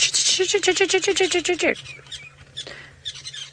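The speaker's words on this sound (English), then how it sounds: "So Senak, those birds are the ones that are sitting in this knobthorn tree, and they are the red-billed buffalo weavers." A rapid burst of chattering red-billed buffalo weaver calls from a knobthorn tree on an evening safari drive, loud and close for about a second and a half, followed by fainter scattered chirps.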